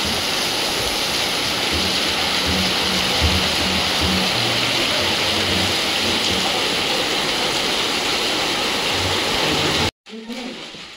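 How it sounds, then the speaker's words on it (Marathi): Heavy rain pours down in a dense, loud, continuous wash, with faint low voices or activity underneath, before cutting off abruptly near the end. "पाऊस एकदम जोरात झालेला आहे"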